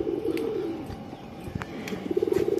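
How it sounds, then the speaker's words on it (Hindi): Soft pigeon cooing with low, rolling calls that repeat through the clip, plus a few faint chirps and light rustling nearby. "कबूतर देखें"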